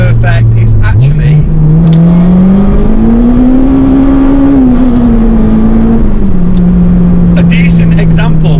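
A Honda Integra DC5 engine pulls steadily while driving, its tone climbing then easing back in one long smooth rev, loud and close, with a person talking over it.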